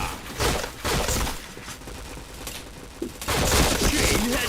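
Rapid bursts of gunfire from a mobile shooter game, loud and dense volleys that pause briefly and then resume at full intensity.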